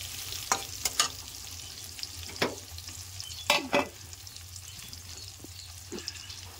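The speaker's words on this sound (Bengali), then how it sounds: "এবার আমি ভালো করে উল্টে পাল্টে নেড়ে চেড়ে ভেজে নেব।" Pieces of teasel gourd (kakrol) fry in oil in a pan while being turned and stirred. Scattered scraping and clacking utensil strokes sound close over a low, steady sizzle.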